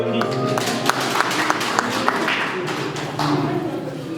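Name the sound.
congregation clapping hands in acclamation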